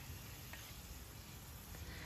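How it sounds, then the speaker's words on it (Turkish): Lean beef cubes sizzle and fry steadily in a small pressure cooker pot as they are stirred, a continuous soft crackle with faint scraping, no voices. "üzerine 1 kilogram yağsız dana kuşbaşını ekleyerek güzelce karıştırıyorum"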